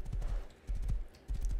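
Horse hooves clip-clopping in the survival video game Rust, three quick bursts of galloping hoofbeats on the ground, moderately close but quiet, with no talk over them.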